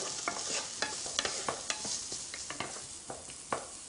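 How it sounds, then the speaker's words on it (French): Shallots cooking in a pan with a steady sizzle while a small spatula scrapes and taps regularly, close and fairly loud, with no voices. "hop, petite spatule et je remue régulièrement"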